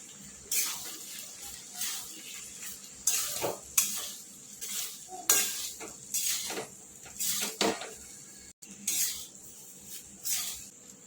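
Vegetable pulao in a pot being stirred with a metal spoon after salt and coriander go in, with repeated scraping clinks against the pot rim and a faint sizzle underneath, steady and close.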